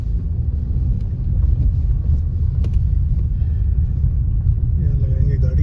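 A car grinds slowly over a rough, broken track beside Tso Moriri lake in Ladakh, a steady low rumble of engine and tyres throughout, close and continuous, with someone talking over it.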